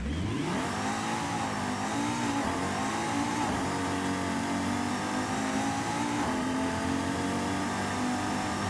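Donkervoort D8 GTO engine in Forza Horizon 5, revving up hard and holding a loud, sustained high-rpm roar with slight pitch swells, close and steady throughout.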